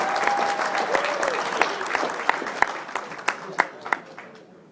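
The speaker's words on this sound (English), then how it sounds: "a big round of applause for your 1978 and 1980 Boston" A crowd's sustained round of applause for a former Boston team from 1978 and 1980, dense clapping with sharp individual claps standing out as it gradually thins and fades, with a faint voice briefly audible early on.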